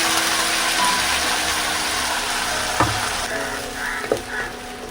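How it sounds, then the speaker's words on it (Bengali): Whole garam masala, cumin and dried red chilli sizzle steadily in hot oil, a close continuous hiss with a couple of sharp clicks from a utensil near the end. "এখানে গোটা গরম মশলা দিয়ে দিচ্ছি জিরে আর শুকনো লঙ্কা ফোড়নে মশলাটা দিয়ে দিলাম"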